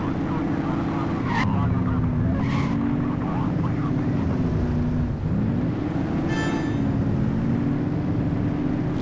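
Cars speeding past in the video game The Precinct, a steady loud engine drone with a wavering pitch and brief tire skids cutting through, continuous throughout.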